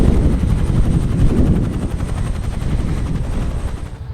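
Helicopter flying close and loud, its rotor producing a rapid, steady thumping chop over a deep engine rumble that fades slightly toward the end.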